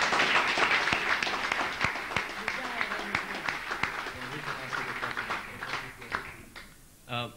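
An audience at a talk on spatial and material technologies of sport claps in a dense burst of applause that slowly thins out into scattered individual claps, ending with a few spoken words.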